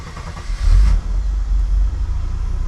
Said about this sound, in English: You just turn the key and it cranks up.